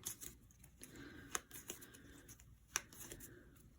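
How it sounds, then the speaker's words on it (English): Cards from The Guild of Merchant Explorers board game are shuffled together by hand, a quiet papery riffle with a few sharper snaps and flicks, close and faint. "we will shuffle them all together and get ready for Era 2"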